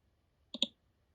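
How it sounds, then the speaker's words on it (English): A mouse button clicks once, a close, crisp double tick as a spreadsheet cell is selected, set against near silence. "Click cell B4."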